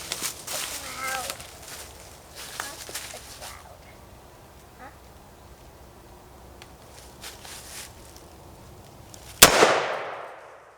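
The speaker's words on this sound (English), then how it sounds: "I'm going to shoot another one just to verify." A single loud rifle gunshot cracks near the end of a quiet outdoor stretch at target shooting, echoing briefly after several seconds of faint ambient sound.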